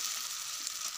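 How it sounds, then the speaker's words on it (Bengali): Food sizzles steadily in a pan in a village kitchen while a corn dish is cooked, a close, continuous hiss lasting about a second. "আগে ভালো করে এটা ভেজে নিব"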